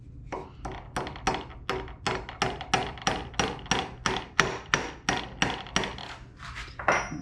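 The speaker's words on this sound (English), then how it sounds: "Get it started with just a hammer and then finish it off with a punch" A hammer taps a metal roll pin into a Honda TRX300FW locker, in a steady, even rhythm, about a dozen sharp close strikes in quick succession.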